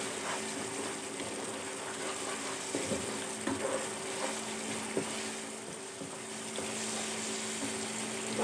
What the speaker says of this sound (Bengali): আদা বাটা, মশলাটা তেলের সঙ্গে কিছুক্ষণ নাড়াচাড়া করবো